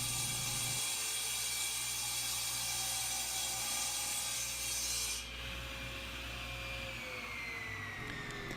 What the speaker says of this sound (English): most table saws wouldn't be able to cut through something this thick all at once, so we'll just flip it over and cut the other part off the other side